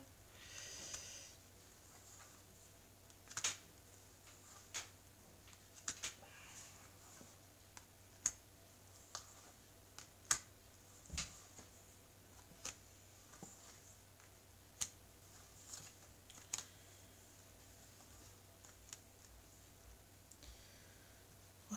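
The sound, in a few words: spreading out tarot cards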